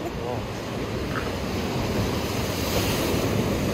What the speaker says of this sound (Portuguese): o mar tá bem agitado, olha. A zona tá bem fortinha, olha. Tá batendo aí nas grutas, ó.